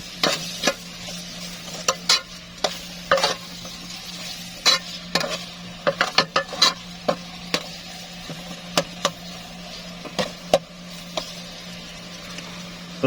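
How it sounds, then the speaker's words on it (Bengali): Cauliflower and minced meat being stirred and fried in a pan: a steady low sizzle runs underneath while a spoon scrapes and clacks against the pan in irregular bursts, with no talking. "এখন আবার একটু ভালো করে নাড়িয়ে নেব"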